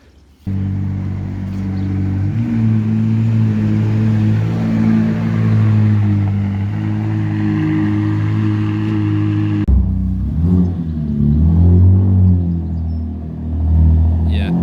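A car engine rumbles low and steady, rising and falling as it revs, then shifts to a rougher idle with a few throttle blips.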